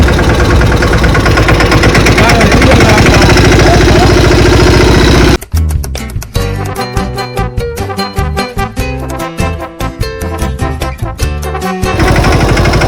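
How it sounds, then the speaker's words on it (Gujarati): A tractor engine runs loud and close, carrying cotton for hire: first a steady, dense drone, then a rough, rapid chugging knock for several seconds before the steady roar returns. "હવે આપણે આપણા ટ્રેક્ટરને ઉપાડશું."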